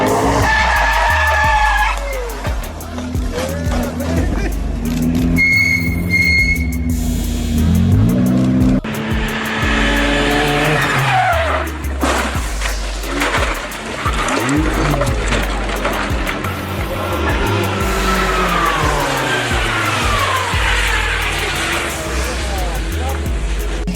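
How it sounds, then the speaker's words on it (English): A Lamborghini Gallardo supercar crashes on a highway: car engine noise, tire squeal and skidding run throughout, with people talking loudly over it. "Lamborghini Gallardo crash."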